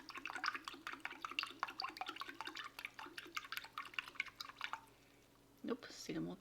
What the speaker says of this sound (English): And it specifies to add cold water.